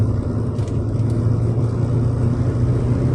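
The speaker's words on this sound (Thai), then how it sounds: "อันนี้ถ้าเร่งแบบ เต็มกราฟเลยนะครับผม" A car accelerates at full throttle from about 50 km/h, its engine droning steadily and loudly from inside the cabin, a continuous low hum with no voices over it.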